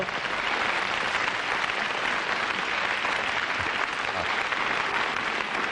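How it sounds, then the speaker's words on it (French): A studio audience at a 1988 French television variety show applauds loudly, a continuous thick roar of clapping that holds steady for nearly six seconds without pause. "On l'applaudit très fort."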